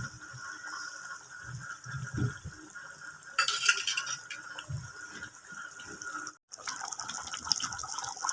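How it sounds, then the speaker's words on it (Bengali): Lemon juice trickles and splashes through a sieve into a pot for a sour hilsa curry. There are soft thuds early on, then a steady pouring hiss with one brief gap. No voices. "যে লেবু জল চিপড়েছিলাম একটা বাটিতে, একটা ছাঁকনির সাহায্যে আমি এখানে ছেঁকে দেব"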